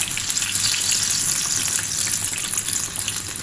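Paneer pakoras deep-frying in hot oil give a steady, loud, close sizzle that runs unbroken with no voices over it.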